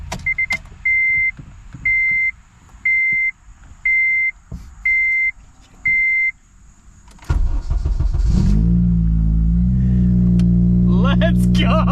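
A Honda Civic Si with a repaired ABS speed sensor: a chime beeps repeatedly with the key on, then the starter cranks briefly and the engine catches into a loud, steady idle up close, with people speaking over it at the end.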